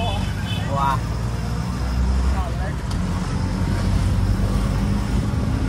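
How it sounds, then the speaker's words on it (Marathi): Steady road rumble and engine drone from riding in an auto rickshaw through busy city traffic in Pune, with faint horn-like tones and voices talking over the continuous close noise. "आम्ही ऑटोने चाललोय आता"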